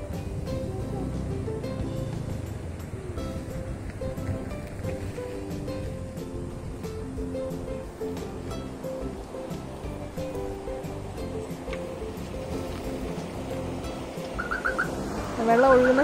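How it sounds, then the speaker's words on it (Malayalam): Water flows and laps near a boat on a sunset trip, a soft continuous wash running under people talking throughout. "വെള്ളം ഒഴുകുന്ന ശബ്ദം കേട്ടോ."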